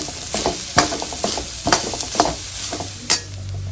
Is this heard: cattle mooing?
no